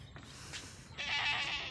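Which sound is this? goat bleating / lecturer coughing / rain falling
goat bleating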